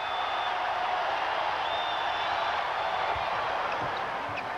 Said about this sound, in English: The crowd starting to really get on him now.